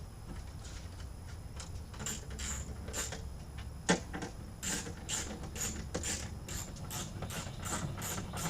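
Ratcheting clicks from a wrench tightening the bolts on a new Dodge Dakota window regulator and motor assembly inside the door, a steady run of close, sharp clicks with one louder knock partway through.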